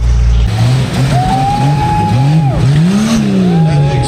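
A Jeep XJ races at Adventure Offroad Park, its engine roaring loud and close with rising and falling revs as it accelerates and strains through the course, tires scrabbling underneath.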